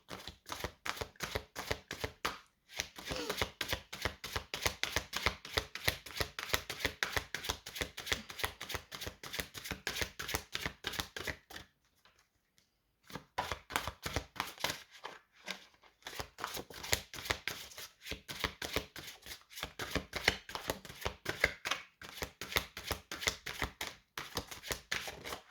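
Tarot cards shuffled for a reading, a long run of close, rapid riffling and slapping of the deck with brief pauses between bursts, heard alone without voices.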